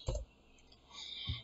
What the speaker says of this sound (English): Go and click the mouse settings